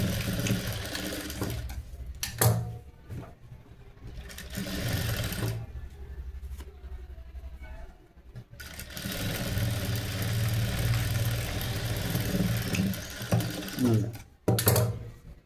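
A sewing machine stitches a princess-style blouse in a tailoring class, its close motor whirring in long steady runs broken by a few short pauses.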